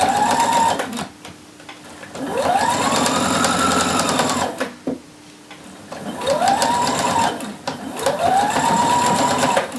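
A sewing machine runs in several bursts while stitching a shirt seam with a 5/8 seam allowance and short back stitches, its motor whirring up and down in pitch with brief pauses between runs, close and loud.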